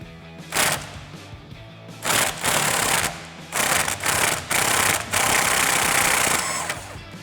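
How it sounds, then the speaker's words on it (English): A ratchet or impact tool drives a 21mm socket to remove the top bolt of a strut assembly on a 2015-2019 Mustang, in several loud mechanical bursts of rapid rattling with short gaps between them. "using a 21mm socket, we're gonna go ahead and remove the bolt on the top of our strut assembly"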